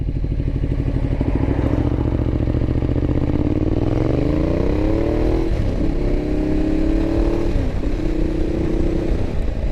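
A Ducati Diavel with a narrow V-twin (L-twin) engine rides along with a continuous loud exhaust note whose revs climb, ease off and climb again as the bike accelerates and shifts.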